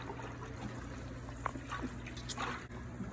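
Sangria juice concentrate poured into a container, a soft, low-level trickle and splash with faint drips against steady background hum.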